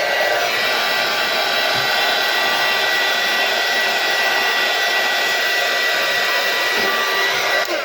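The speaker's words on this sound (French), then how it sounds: "avec mon heat gun, je vais venir pousser les couleurs" A heat gun blows steadily over an ink-sprayed craft tag freshly coloured in autumn Maple Crimson, a loud, continuous close-up rushing whoosh with no pauses or talk.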